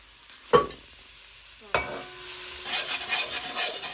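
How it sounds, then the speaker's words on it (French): Onions sweating in olive oil in a pot for a vegetarian bebele dish: two sharp clanks of a utensil against the pot, then a soft, steady sizzle and stirring that builds slightly toward the end, fairly close. "On laisse suer les oignons."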